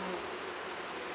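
Honey bees buzzing at a queenless hive, a brief, soft, continuous hum of many insects close by.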